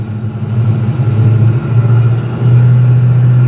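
A 1970 Chevrolet C10 pickup truck cruising on a test drive, its engine a steady, loud low drone from inside the cab that deepens and firms up as it pulls harder, with no voices.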